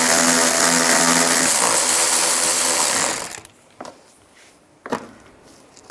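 A ratchet turning a 7mm socket to remove panel screws on a 2005-15 Nissan Xterra gives a rapid, loud continuous clicking for about three seconds, then a few isolated clicks and handling knocks, close up.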